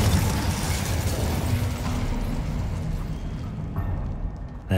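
A fire spell cast in the Hogwarts Legacy video game gives a loud, sustained rushing whoosh with bursting, crackling energy that stays full for several seconds before thinning slightly at the end.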